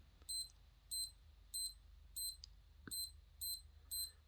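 An SKMEI 1841 digital watch gives eight short, quiet, high-pitched electronic beeps at a steady rhythm, about two per second, with little else audible.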